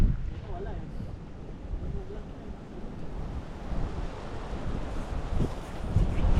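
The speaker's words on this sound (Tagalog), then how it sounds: "Oh, grabing hangin na yan." Strong wind gusts across an outdoor fishing pond, a continuous rough blustery roar buffeting the microphone that swells toward the end, with faint voices underneath.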